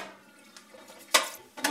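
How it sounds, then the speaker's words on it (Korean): Dishes, pots and cutlery clinking during washing up at a kitchen sink, with two sharp, bright clatters against quiet background handling sounds. "밀린 설거지를 합니다"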